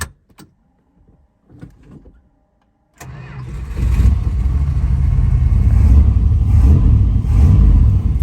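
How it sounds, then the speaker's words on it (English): A few faint clicks and rustles, then the 440 V8 of a 1973 Dodge Polara ex-Washington State Patrol car cranks and roars to life, settling into a loud, steady rumbling idle. "let's start this thing up"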